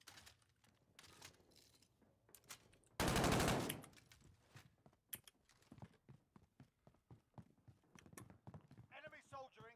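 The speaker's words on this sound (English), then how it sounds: "Who's that shooting?" Gunfire in a first-person shooter game: a loud, dense automatic burst lasting about a second near the start of the stretch, with scattered game effects and voices around it.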